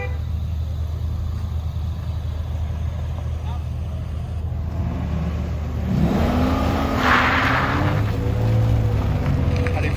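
A Porsche accelerates hard on an autocross track in Idaho, its engine rising from a distant drone to a louder revving pass, with people talking over it throughout.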